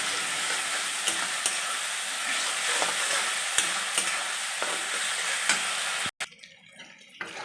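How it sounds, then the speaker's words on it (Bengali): Chili powder, sugar and spices frying in hot oil while being stirred, with a steady close sizzle broken by repeated clinks and scrapes of the spatula, then an abrupt cut to a quieter, thinner sizzle. "তারপর লঙ্কা গুঁড়ো দিলাম, একটু চিনি দিলাম, দিয়ে ভালো করে মশলাগুলোকে আমাকে কষিয়ে নিতে হবে যতক্ষণ না তেল ছাড়ে"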